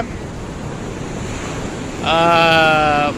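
Rough sea surf washes onto the shore in a continuous roar mixed with wind buffeting the microphone. A brief, steady tonal sound joins the roar near the end.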